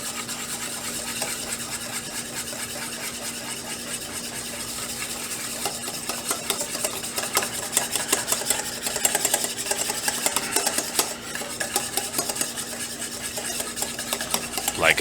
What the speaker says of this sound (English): we're going to start incorporating our butter nice and slow, a little bit at a time.